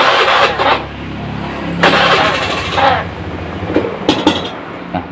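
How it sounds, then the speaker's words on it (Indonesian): Honda Beat FI scooter engine revved gently while misfiring and stuttering despite a fresh service and new filter, a close, loud uneven drone with repeated surges and dips across the whole stretch. "coba saya akan gas pelan"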